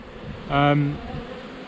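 Honeybees during a double-brood hive inspection give a single close buzzing pass lasting about half a second, rising and fading over a quiet steady hum.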